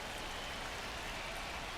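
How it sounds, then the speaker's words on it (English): Steady rain pouring down over a ballpark during a Tigers versus Red Sox game in MLB The Show 25, a constant even hiss with no breaks and no voices. "This rain is not letting up."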